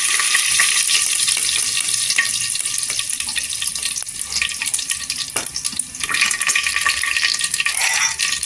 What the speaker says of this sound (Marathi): इथे 1 चमचा जिरं टाकायचं, जिरं छान असं तरतरलं पाहिजे। इथे कढीपत्ता टाकायचा,